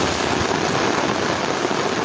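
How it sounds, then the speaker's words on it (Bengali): Heavy rain pours during severe 2024 flooding in Noakhali, Bangladesh: a dense, steady roar of downpour on water and surfaces, loud and unbroken throughout, with no voices. "বৃষ্টি অনেক বৃষ্টি হচ্ছে"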